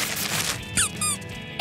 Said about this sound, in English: It's a squeaky toy.